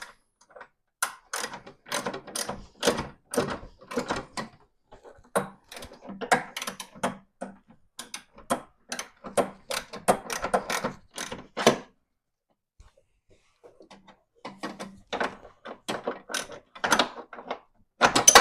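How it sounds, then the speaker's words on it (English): Ratchet wrench with a deep socket tightening a bolt while installing a 16-valve turbo engine into a car, heard as bursts of quick close clicks in rapid runs with short pauses, no talking. "I'm using a deep socket right now."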